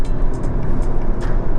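McLaren MP4-12c supercar, about ten years old, driven on a twisty track with its engine roaring as a loud, steady, dense drone that runs without a break.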